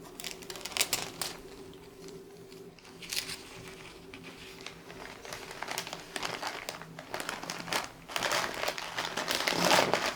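Paper crinkling and rustling as a crochet business order is packed for shipping, soft irregular crackles and patters at close range with brief pauses, fairly quiet throughout.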